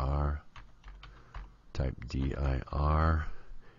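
Someone talks while keys clatter on a computer keyboard as a DOS command is typed, the short bursts of clicking sitting under and between his speech.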